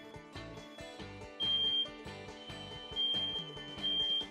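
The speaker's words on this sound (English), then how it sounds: "When testing your smoke detector, press the test button and listen for the alarm." A smoke detector's test button sets off its alarm: a piercing high beep pulses in short repeated bursts, loud and close, over a bed of other tonal sound.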